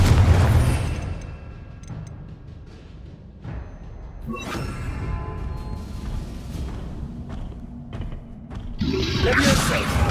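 Confringo, a fire spell in Hogwarts Legacy, lands as booming explosions with deep thuds, crackling bursts and debris rumble that swell and fade across several seconds, loud and close.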